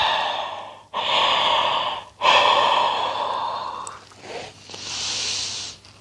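A person lying relaxed on the floor during a yoga session yawns in long, breathy drawn-out exhalations, a few in a row, close and fairly clear.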